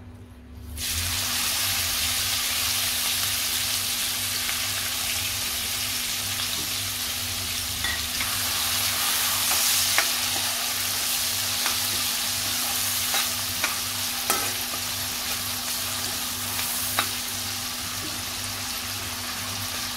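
Chopped onion frying in oil on top of a tempering of cumin, mustard seeds, asafoetida and curry leaves, a steady dense sizzle with light stirring scrapes, continuous and close with no talk.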